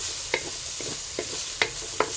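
Chicken tinola is stirred in a pot over a low simmering hiss, with several sharp clicks and scrapes of the spoon at uneven intervals and no voices.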